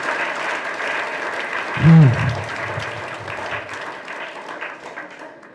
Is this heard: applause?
yes